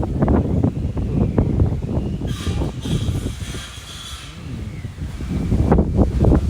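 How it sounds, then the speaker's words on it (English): Gusty wind buffets the microphone in low rumbling bursts in a New York City community garden, easing briefly in the middle before picking up again. "It's very windy though."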